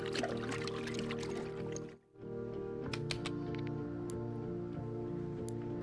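Water pours steadily for a horse in the Equinox Homecoming farm game, a continuous close trickle with a brief pause and faint clicks over it.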